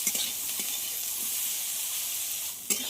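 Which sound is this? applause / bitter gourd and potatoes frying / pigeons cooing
bitter gourd and potatoes frying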